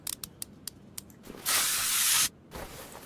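Spray can in the Car Mechanic Simulator 2021 video game, a single loud hiss of about a second, preceded by light clicks and followed by a shorter, fainter burst of spray.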